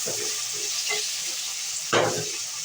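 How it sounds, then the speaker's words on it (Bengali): Dal (lentils) frying in a pan, a dense close sizzle with soft stirring scrapes and a sharper, louder burst of frying near the end, no talking. "ডালটা ভাজছি"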